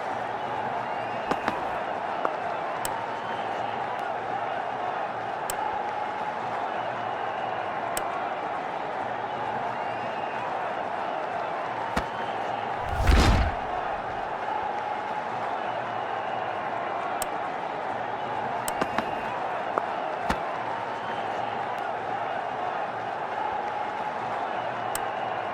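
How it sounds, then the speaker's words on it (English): A packed cricket stadium crowd at the India vs New Zealand ICC Champions Trophy 2025 final keeps up a steady, far-off roar of cheering, with scattered sharp claps and one loud surge near the middle. "Electric crowd here"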